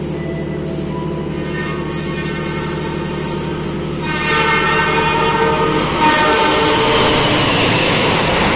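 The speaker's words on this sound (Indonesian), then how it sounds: "Ini dia kereta api Taksaka" The Taksaka train from Gambir station to Yogyakarta rolls by loud and close, its rumble swelling as a long sustained horn blast sounds over the passing cars.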